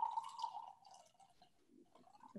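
A runny smoothie is poured out, a thin trickling stream with a steady tonal gurgle that fades, then a few quiet drips and splashes, heard faintly up close.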